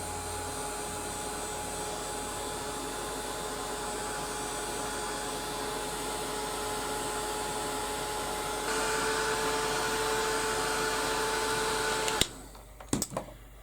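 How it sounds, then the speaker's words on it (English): A heat gun blasts hot air over a decorated journal cover, a steady whirring blow with a constant tonal hum that steps up slightly before cutting off, followed by a few handling clicks. "I'll just give that a quick blast with the heat gun"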